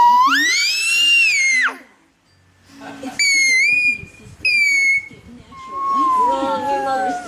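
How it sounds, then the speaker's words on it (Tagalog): A child whistling in short, high, wavering bursts, a long note followed by two quick ones and a lower trailing tone, close by, with adults talking and a voice in between. "Grabe mag-sipol yan."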